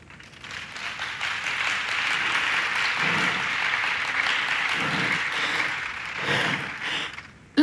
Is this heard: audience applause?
yes